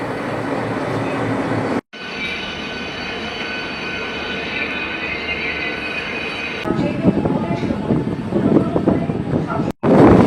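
A local train pulls out of Howrah station with a loud, continuous rumble of wheels and carriage noise, growing rougher and more rattling toward the end, with indistinct voices mixed in.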